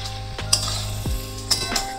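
Ginger and green chilli stirred in a hot pan for a Bengali mixed vegetable labra: a spoon clinks and scrapes against the metal a few times over a continuous close sizzle, with no talking.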